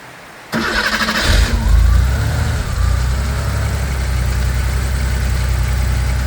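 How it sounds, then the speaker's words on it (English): A Porsche 911 3.2 Carrera cranks briefly on its starter, catches loudly and settles into a steady, even idle close by, with no talk over it. "So we're gonna start up again."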